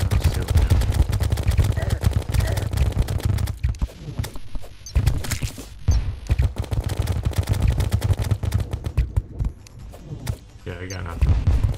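Rapid automatic fire from the Minishark gun in Terraria, a dense, near-continuous rattle of shots over heavy game noise, with brief pauses and people talking throughout.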